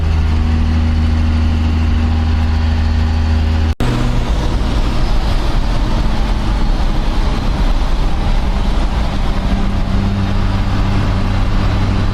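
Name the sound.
12V Cummins diesel truck engine idling with upgraded exhaust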